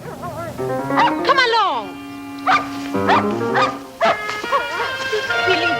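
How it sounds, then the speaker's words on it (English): A dog named Candy gives a few short barks and yips close by, mixed in with speech in a drama scene; voices talk over and between the barks. "Silly dog."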